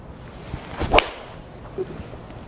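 A single sharp crack of a Callaway Mavrik golf driver striking a ball, with a brief swish around it, then quiet outdoor ambience.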